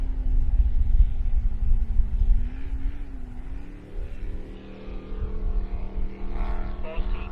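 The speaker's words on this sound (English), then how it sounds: "that supercharged Mercruiser sounding fantastic" A supercharged Mercruiser-powered offshore racing powerboat roars across Corio Bay in a race, a loud, continuous deep engine drone with shifting pitch as it works through the turns.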